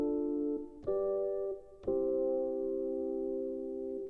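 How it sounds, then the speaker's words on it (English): A jazz 2-5-1 chord progression played on an Ableton Push 2: three sustained synth chords struck in turn, each ringing clearly and alone, the last held longest as the resolution. "by far the most common jazz chord progression is called a 2-5-1"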